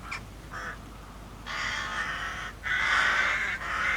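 Several crows caw loudly in harsh repeated bursts while circling overhead above woodland, with a few calls early on and then sustained noisy cawing in the second half.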